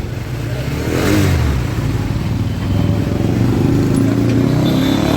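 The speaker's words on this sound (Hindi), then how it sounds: "चलो जी बाइक स्टार्ट हो गई है" A motorcycle whose engine had seized runs after being restarted at night, a steady rough engine drone with some revving and clatter, recorded close by with background noise.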